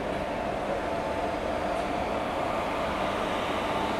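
A passenger train with banker locomotives attached, an Amrit Bharat push-pull express, gives a steady rumbling drone at moderate distance with no voices over it.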